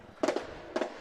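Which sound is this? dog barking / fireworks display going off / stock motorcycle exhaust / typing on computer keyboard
fireworks display going off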